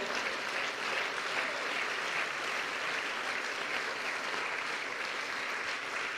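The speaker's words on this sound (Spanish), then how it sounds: "que le dé un fuerte aplauso al Señor" Applause from a church congregation during a Spanish-language sermon, a steady, even wash of many hands clapping at moderate distance, fairly soft and unbroken throughout.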